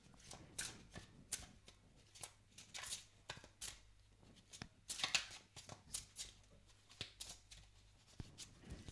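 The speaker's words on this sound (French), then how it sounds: "quand je bats les cartes, elles s'accrochent entre elles" A deck of tarot cards is shuffled by hand in repeated riffles and soft slaps, close and fairly quiet, with the cards catching and snagging against one another in an uneven rhythm.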